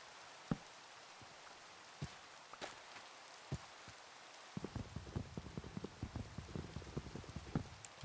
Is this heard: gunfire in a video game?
no